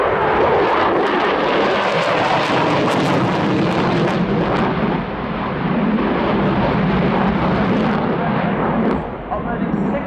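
A fighter jet roars by in full afterburner at the RIAT 2023 airshow, a loud, continuous broadband thunder with rumbling crackle that holds steady throughout, while a commentator talks over it.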